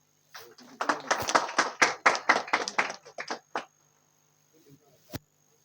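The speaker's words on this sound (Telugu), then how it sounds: "అందరూ క్లాప్స్" A small group claps hands at a home celebration, a lively burst of quick, uneven claps lasting a few seconds, fading out into near silence, then one last sharp clap.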